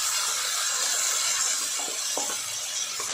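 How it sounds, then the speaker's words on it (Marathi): Tomatoes sautéing with browned onion in a pan, a steady dense sizzle that holds at an even level throughout, with a few faint stirring scrapes and no voices. "आता यामध्ये टोमॅटो घालायचे आहे व 1 मिनिट परतून घ्यायचं आहे"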